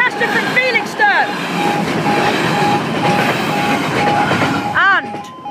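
A freight train rolls past the Hykeham station level crossing in Lincolnshire, loud and close, with a steady rumble of wagons, a repeating warning tone and high metallic squeals from the wheels.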